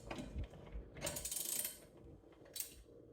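A ratchet wrench clicks through a few quick bursts of pawl ratcheting while tightening in a shop, close and fairly quiet, with short pauses between strokes.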